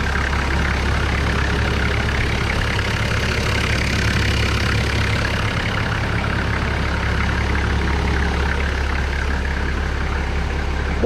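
A Toyota Land Cruiser 1HZ diesel engine fitted with a high-mount turbo idles smoothly, giving a steady, loud, close low rumble that stays even throughout, with no talking.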